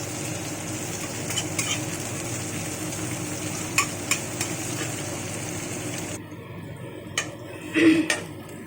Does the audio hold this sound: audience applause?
no